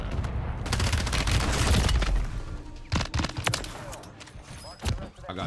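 Gunfire in Call of Duty on Rebirth Island: rapid automatic bursts and sharp single shots crackle in dense clusters, loud and close, with a voice talking over part of it.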